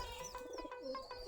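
Pigeons coo from wooden nest boxes in a loft holding chicks, a steady low murmur of overlapping coos with faint chirps mixed in, close and continuous throughout.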